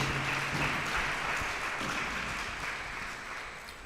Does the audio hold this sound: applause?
yes